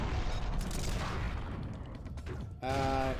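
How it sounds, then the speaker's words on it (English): Shotgun fire in the Dead to Rights II game, dense booming blasts and clattering action layered together at steady loudness, with a short break just before the end. "that was a lot of shotgunning"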